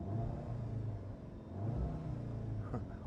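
Heard from the cabin of a 2017 Audi TTS with its 2.0 TFSI engine, a low, muffled engine rumble swells slightly and fades again, quiet and steady with no one talking over it.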